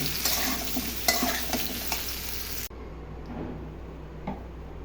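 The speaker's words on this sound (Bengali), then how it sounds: "আলু পটল একটু ভাজি করে নিব।" Potatoes and pointed gourd fry in oil with a busy sizzle and clinking stirs, then the hiss drops suddenly quieter for the rest, with a few light scrapes; no voices.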